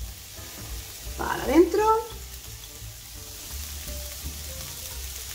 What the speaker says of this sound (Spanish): Vamos a echar también una cebolla cortadita